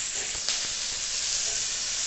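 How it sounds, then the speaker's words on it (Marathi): Green chillies roasting in a little oil in a pan for thecha, a steady close sizzle and hiss running the whole time with faint crackles, no voices. "आता आपण मिरची टाकून घेऊ आणि त्या थोड्या आंबळ भाजून घेऊ"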